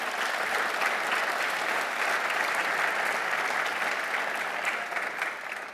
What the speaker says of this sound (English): That deserves its own round of applause.